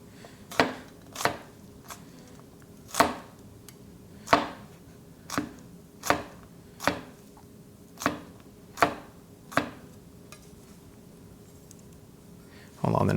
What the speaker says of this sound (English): What I'm gonna do is I'm gonna mince it